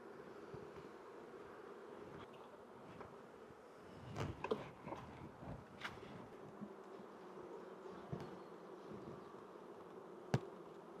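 Many honeybees hum around the front of a hive in a soft, continuous drone, with an occasional louder bee passing close and a few faint clicks.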